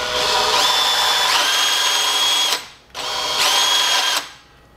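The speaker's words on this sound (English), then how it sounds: "You can see with the different speed of the drill, you get a different speed." A power drill turning a weld positioner shaft runs loudly in two long bursts, its whine rising in pitch as it speeds up, with a brief stop between them.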